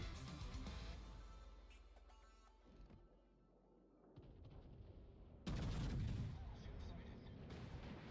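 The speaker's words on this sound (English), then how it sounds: "3 ships are shooting at me" Naval gunfire from warships in a naval combat video game, with heavy booming shots and rumbling impacts, a loud blast near the end, and speech-like voices in the mix.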